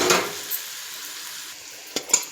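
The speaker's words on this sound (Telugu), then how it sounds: "తర్వాత మనం ఎగ్ ఇందాక తీసి పక్కన పెట్టుకున్నాం కదా, అవి కూడా వేసేద్దాం" Eggs hit a hot pan for egg noodles with a brief loud sizzle at the start, then fading frying hiss and a few scrapes and taps of a utensil against the pan.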